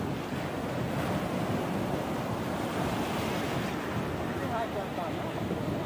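Ocean surf on a fishing beach roars steadily and loudly with wind buffeting the microphone, a continuous wash of breaking waves throughout.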